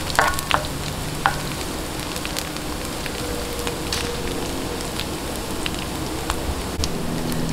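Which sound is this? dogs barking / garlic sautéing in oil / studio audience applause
garlic sautéing in oil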